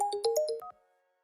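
A mobile phone ringtone plays a short melodic run of bright electronic tones during an office job interview, then stops abruptly, leaving near silence.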